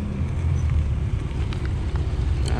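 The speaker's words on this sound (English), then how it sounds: "Couple newer Lexus rolling by." Newer Lexus cars roll past at a classic Japanese car show parking area, a steady close low rumble of engine and tire noise with a little wind, brief and continuous.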